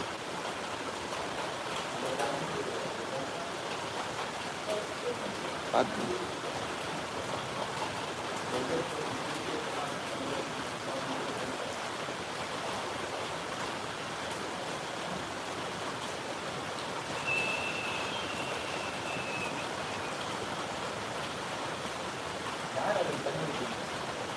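Light drizzling rain makes a continuous, even hiss for the whole stretch, with a few faint knocks and brief higher-pitched sounds rising now and then above the wash.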